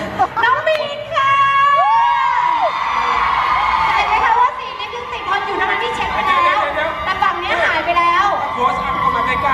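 A crowd at a lipstick promotional event in Thailand shouts and cheers loudly, with excited high-pitched whoops and chatter rising and falling over several seconds, mixed with lively talking.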